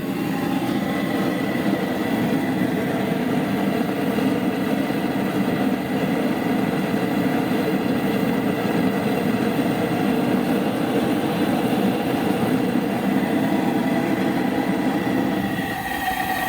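A homemade forge burner turned up to 5 PSI roars with a steady, dense, loud rushing noise that holds unbroken throughout, with no voices over it.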